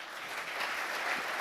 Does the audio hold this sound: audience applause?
yes